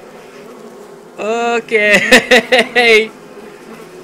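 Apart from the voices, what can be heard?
wasps buzzing in Oculus Rift video game Don't Let Go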